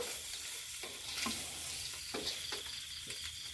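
Spicy catfish stir-fried in a wok, sizzling loudly and close with repeated scraping strokes of the spatula at an irregular rhythm over continuous frying hiss, no voices.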